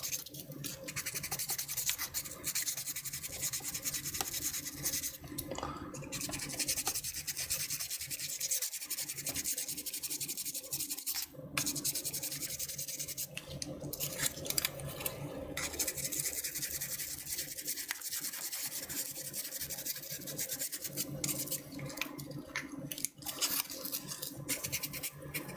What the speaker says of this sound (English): When you're sanding all these pieces, you really have to be careful not to start getting lazy.